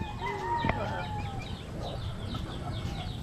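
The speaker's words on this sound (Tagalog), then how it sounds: "may mga manok kasi doon sa unahan, may mga manok." Chickens cluck nearby in a rural yard, short repeated clucks over steady outdoor background noise, with one brief sharp sound early on.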